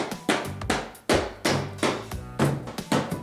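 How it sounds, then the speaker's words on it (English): A rubber mallet strikes an FMF Q4 muffler on a dual sport motorcycle about eight times in an uneven rhythm, each blow a close, dull thud with a short ringing tail. "Rubber mallet, extremely important in motorcycling."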